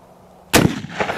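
A restored 1895 rifle fired outdoors at milk jugs: one sharp, loud gunshot that breaks the near-silence, followed by a short rumbling echo and fainter reports trailing off.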